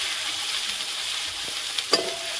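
Onion and chillies frying in oil for Maggi noodles cooked outdoors in a farm field, a steady broadband sizzle with a couple of brief clinks or stirring taps near the end.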